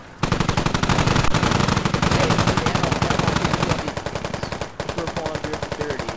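A heavy machine gun fires long sustained bursts in the tactical shooter SquadOps, rapid evenly spaced loud reports close by, with one brief pause partway before the firing resumes.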